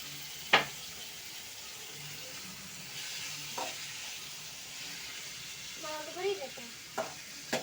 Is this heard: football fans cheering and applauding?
no